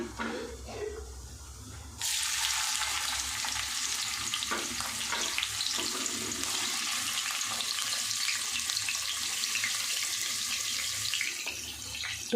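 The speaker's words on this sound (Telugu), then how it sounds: "సన్న కట్ చేసిన ఆనియన్స్ వేస్తున్నా" Finely chopped onions hit hot oil with cumin seeds in a pan, starting abruptly as a loud, steady, close frying sizzle that continues without break after a quieter opening moment.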